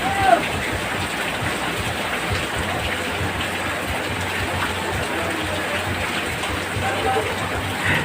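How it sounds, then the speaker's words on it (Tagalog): Heavy rain pours down steadily, a loud, continuous broadband hiss of water, while a person talks over it throughout. "grabe talaga ng lakas ng ulan na yan guys"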